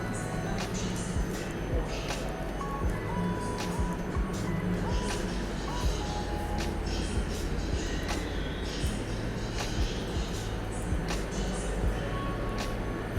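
Steady low rumble of the IC Chopin passenger train with sleeper cars, with continuous mechanical noise and occasional faint clanks and squeals throughout, fairly loud and close.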